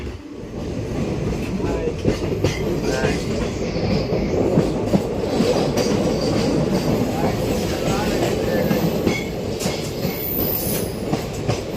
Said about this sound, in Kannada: ಟ್ರೈನ್ ಹೋಗ್ತಾ ಇದೆ ಟನಲ್ಗಳ ನಡುವೆ